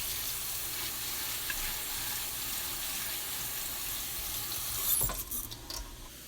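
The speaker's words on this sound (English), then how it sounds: "Rinse your buckwheat." Buckwheat grains rinsed under a running kitchen tap, a steady broadband hiss of flowing water with a brief louder splash and clatter near the end, close and with no voices.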